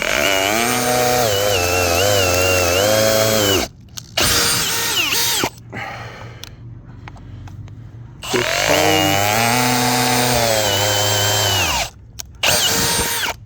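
A drill-powered wood-splitting auger bores into wood with a loud, close motor whine whose pitch sags and wavers under load, running in two long stretches broken by short pauses and quieter moments.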